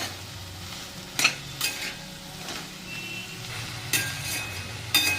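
Okra frying for a Maharashtrian bhendi bhaji is stirred in a pan, with a steady sizzle and several sharp scrapes and clinks of the spoon spaced through it, close and moderately loud, no talking.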